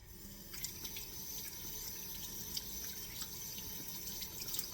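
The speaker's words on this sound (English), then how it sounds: "let me wash my hands" Hands being washed under a running kitchen tap in a steady, soft stream of water, with small splashes and drips throughout and no talking.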